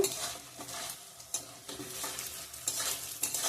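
Dal fries and gets stirred in a pan for Saraswati puja khichuri, with a steady close sizzle broken by repeated scraping spatula strokes. No one speaks.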